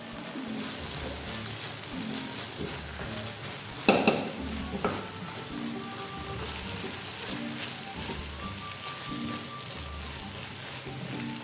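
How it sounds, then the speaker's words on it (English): Mushrooms added to a meat and onion mixture, frying in a pan with a constant hiss, a loud scraping clatter of stirring partway through and softer knocks after it, with no talking. "Add the mushrooms to the meat and onion mixture."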